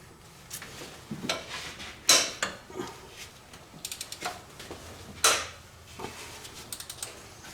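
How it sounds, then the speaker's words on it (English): Ratchet tool clicking in short bursts while loosening idler pulleys on a 2004 Subaru Forester EJ25 engine, with scattered metallic mechanical knocks and clicks, close and fairly quiet. "Now it's time to start loosening up the idler pulleys."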